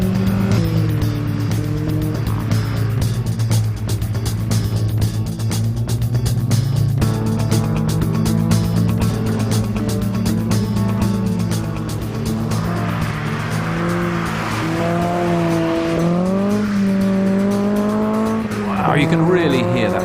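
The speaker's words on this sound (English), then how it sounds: "You can really hear that VTEC scream as Bill flies up through the 5-speed gearbox" A Mini fitted with a Honda VTEC engine and 5-speed gearbox races hard through the gears, its engine screaming loud and close as revs rise and drop with each shift, tyres squealing at times.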